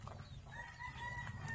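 A rooster crows faintly amid clucking chickens on a rural property, the drawn-out call rising over a low background rumble.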